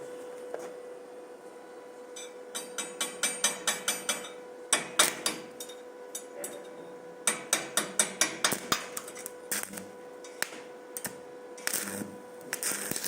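A Koval MMA-350 inverter welder cuts 6 mm steel with a 3 mm electrode at 130 A, giving irregular crackling and sputtering bursts over a thin steady electrical whine, fairly quiet and without speech.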